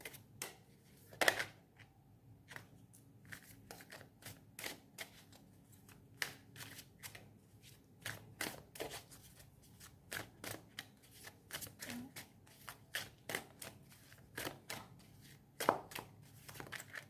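Tarot cards being shuffled and drawn from a deck, a run of crisp, close riffling and flicking bursts with soft slaps between them, steady and alone with no talk.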